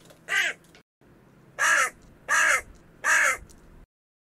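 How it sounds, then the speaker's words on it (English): A corvid gives four harsh, loud caws much like a carrion crow's, one single call followed by three evenly spaced calls, clear and alone. "Their call is similar to that of the carrion crow."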